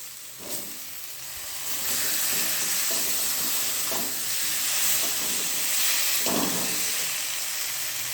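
Potatoes and spices frying in oil for an egg curry give a constant loud sizzle and hiss, close up, broken by a few soft stirring scrapes, with no talk.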